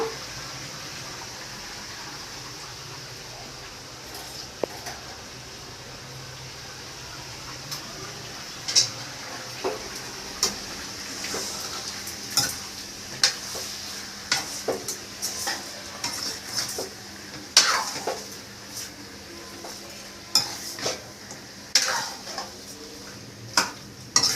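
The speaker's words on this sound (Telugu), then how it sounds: "చికెను పసుపు ఉప్పు వేసాం కదా కలుపుతాను" Country chicken tossed with turmeric and salt in a pan, with steady close stirring, repeated clicks of a spoon against metal and a soft sizzle underneath, picking up pace and growing busier as it goes on.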